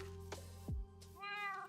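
A cartoonish Minecraft cat lets out a couple of short meows over a steady electronic hum, followed by a rising synthetic chime.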